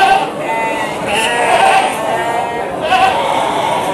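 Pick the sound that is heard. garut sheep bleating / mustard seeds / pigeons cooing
garut sheep bleating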